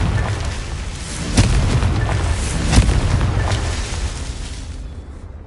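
A blasting spell explodes in Hogwarts Legacy, set against a rumbling, steady game soundscape. Two sharp, booming bursts hit close and loud, and the noise fades away at the end.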